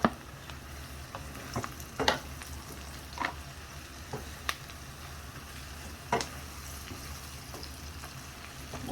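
Onions and mushrooms frying in a pan, a steady close sizzle broken by occasional scraping and stirring clicks from a utensil, with no talking.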